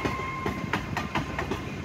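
A Class 802 passenger train, set 802016 with 802005 on the rear, rolls along with a rhythmic clickety-clack of wheels over rail joints under a steady engine hum.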